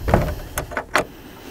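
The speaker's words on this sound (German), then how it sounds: "Tür schließt." Wooden door of a hunting stand (raised hide) swinging shut outdoors, heard as a short series of close knocks and creaks ending in a firmer thump, with no talk over it.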